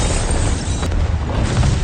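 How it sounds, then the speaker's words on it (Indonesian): A loud, sustained movie bomb explosion roar with deep rumbling that fills the whole moment, dense and close. "Bom meledak dahsyat."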